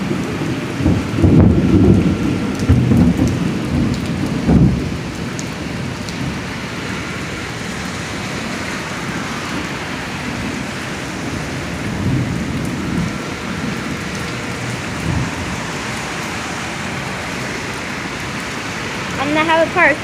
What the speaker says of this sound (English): it's just actually a rainstorm with some thunder